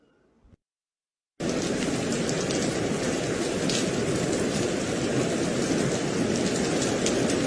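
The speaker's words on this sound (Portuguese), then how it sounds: "Esse é o som da chuva." Steady rain pours in a dense, even hiss after a brief quiet start, loud and close, holding unchanged to the end with no voices.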